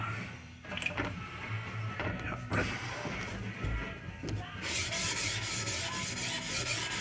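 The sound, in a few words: sharpening a single bevel knife from tip to heel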